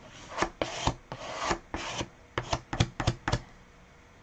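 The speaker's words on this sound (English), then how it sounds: "this is how I scrape paint for this nice background" A card scrapes paint across a painted background, a series of short rasping strokes in quick, uneven succession, close and fairly loud, with no talk.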